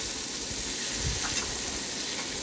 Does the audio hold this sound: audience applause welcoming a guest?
no